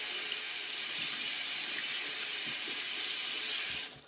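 Tap water runs in a steady, close hiss while a beauty blender sponge is squeezed under the stream, with faint soft squishes beneath the flow before it cuts off at the end.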